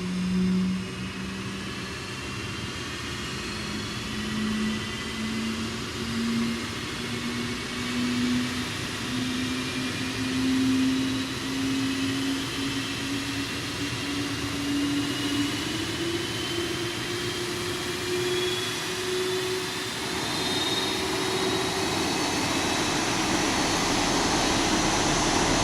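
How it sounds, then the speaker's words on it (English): Boeing 737 jet engines spool up in the X-Plane 11 flight simulator, a steady turbine whine climbing slowly in pitch over a constant roar, rising and levelling off near the end. "So the engines are starting."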